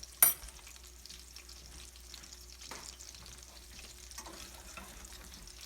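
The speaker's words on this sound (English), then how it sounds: "now the meatballs have been cooking 4 minutes on a medium high" Meatballs browning in a pan over medium-high heat make a continuous close sizzle, with one sharp clatter near the start and soft shifting bursts later.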